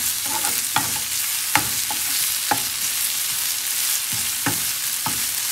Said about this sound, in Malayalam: ഫ്രൈ ആവട്ടെ.